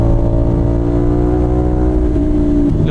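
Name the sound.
motorcycle riding on a long ride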